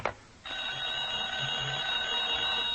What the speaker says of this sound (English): Oh, Miss Aubrey, I'm better answer the phone